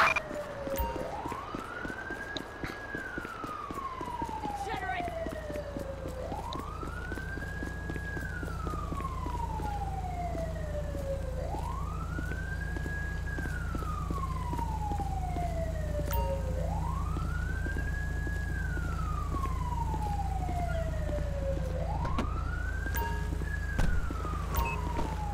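An emergency siren wails in Grand Theft Auto V with the LSPDFR police mod, rising and falling in a slow, regular cycle about five times over a steady low engine rumble, loud and close.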